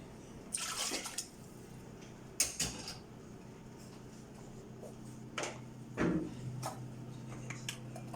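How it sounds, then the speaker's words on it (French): A glass of water is poured into a Thermomix in a home kitchen, heard as a few brief, soft splashing bursts against a quiet background. "il faut un verre d'eau que nous allons mettre dans le thermomix"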